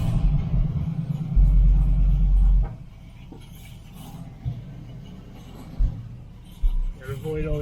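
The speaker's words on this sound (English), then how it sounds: "Started right up on a cold start with no choke." The engine of a 1970 Camaro project car runs after a cold start on a warm day, a steady low rumble with a heavier surge early on, then a settled idle with a few thumps and mechanical clunks, close by.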